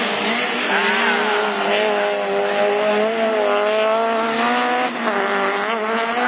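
Rallycross race cars, including Peugeot 206 and 306 entries in the 2013 French championship Division 4 at Lessay, roar past at high revs. The loud, continuous engine whine rises and falls in pitch as the cars accelerate and shift.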